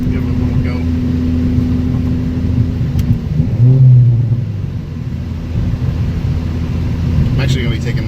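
Modified Ford Focus fitted with a Mustang throttle body, heard from inside the car as a low steady engine drone that swells into a brief rev, with people talking over it.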